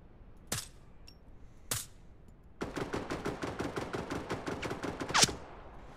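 Gunfire in the video game Direct Contact aimed at robots: two single loud shots, then a rapid automatic burst of about twenty evenly spaced rounds, ending on a louder crack.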